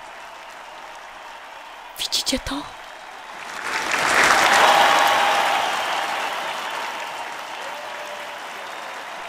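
A huge crowd of fans applauds a concert stage, swelling into broad clapping and cheering that peaks midway and slowly fades, after a brief voice and a few sharp sounds at the start.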